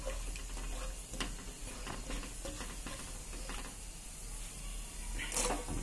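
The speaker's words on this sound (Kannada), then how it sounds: "ಗೋಡಂಬಿ ಕೈ ಅಡಿಸ್ತಾ ಇರಬೇಕು" Cashews and raisins fry in ghee in a pan as a spoon stirs them, giving a soft steady sizzle broken by small clicks and scrapes, with a brighter hiss near the end.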